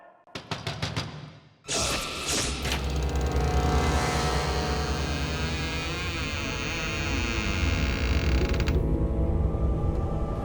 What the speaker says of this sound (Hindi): ये दरवाजा अपने आप कैसे खुल गया है?